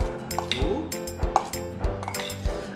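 A spoon stirs crepe filling with lemon juice in a bowl, giving repeated close clinks and scrapes against the dish in an uneven rhythm, with no talking.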